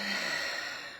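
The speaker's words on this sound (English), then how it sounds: "Taking another breath." A single deep, slow breath, close and breathy, drawn in one smooth stretch in a quiet room during a calm meditation.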